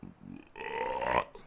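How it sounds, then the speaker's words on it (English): A single very large burp, deep and drawn out for about a second, loud and close, preceded by a couple of short throaty grunts. "That was a very large burp."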